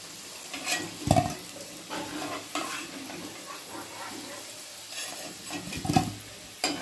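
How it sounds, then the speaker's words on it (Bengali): New potatoes deep frying in hot oil give a soft, constant sizzle, broken by a few louder stirring scrapes and knocks against the pan. "কিছু আলু রেখেছিলাম আর কিছু আলু দিয়ে দিচ্ছি তেলে"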